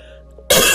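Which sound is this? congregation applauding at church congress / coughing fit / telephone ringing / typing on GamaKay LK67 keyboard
coughing fit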